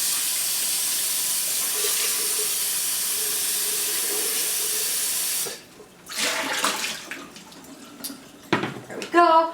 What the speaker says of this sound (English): I'm going to rinse this just to make sure it is fully clean